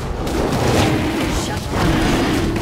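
A turret is destroyed in League of Legends, heard as a dense, booming rumble of game explosions and combat effects that fills the whole brief moment.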